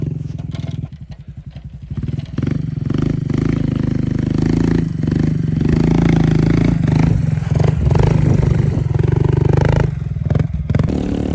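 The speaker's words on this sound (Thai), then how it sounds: "อันนี้คือเกียร์หนึ่ง บิดสุดแล้วจุงด้วยครับ" A Honda CT125 motorcycle climbs a very steep mountain road to the Doi Soi Malai viewpoint in Tak at full throttle in first gear, its engine a loud, close, sustained labouring drone with rattly clatter.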